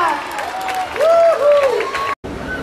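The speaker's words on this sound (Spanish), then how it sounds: "Que se escuchen los aplausos." An outdoor crowd at a Christmas tree lighting breaks into applause with cheers and whistles, a loud, continuous clapping swell that cuts off abruptly near the end.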